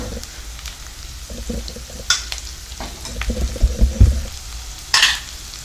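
Pumpkin pieces sautéing in a pan with turmeric, chili powder and salt, giving a steady low sizzle with intermittent spatula stirring and scraping, moderately close, with no talking.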